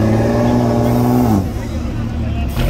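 A drag racing car at a Puerto Rico track holds a steady, loud engine drone with layered harmonics, then drops in pitch as the revs fall, while crowd chatter murmurs in the background.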